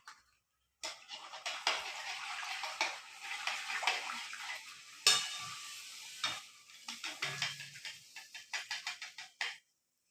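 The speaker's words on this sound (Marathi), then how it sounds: "मी आता पुरी टाकते." Puris drop into hot oil and fry with a loud, bubbling sizzle that surges, fades and returns in bursts as the dough puffs, close by with no voices.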